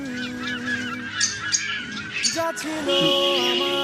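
Caged pet birds for sale in a bird shop, including green and yellow finches, chirp and honk in overlapping bursts, with nasal goose-like calls and thin tonal whistles close by.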